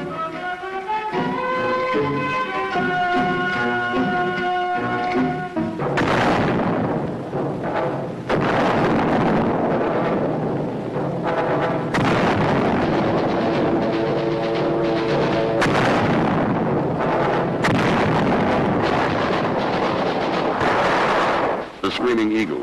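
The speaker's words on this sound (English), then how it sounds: "Communist fire comes from everywhere." Gunfire and artillery explosions boom and crackle at a Vietnam War outpost, dense rolling blasts that follow a stretch of tonal music and continue loudly to the end.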